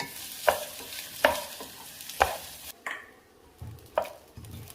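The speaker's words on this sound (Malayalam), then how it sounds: "വറ്റിച്ചെടുക്കുന്ന അരിയെ ഇങ്ങനെ നന്നായിട്ട് വറുത്തിട്ട് വേണം വെള്ളം ഒഴിക്കാൻ." Washed rice for chicken biryani toasting in a pan with spices over medium heat, with a faint sizzle broken by several sharp scraping stirs and knocks of a spoon, no talking.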